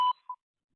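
A single short electronic beep from an automated IVR phone system, clean tone followed by a brief faint echo, then silence.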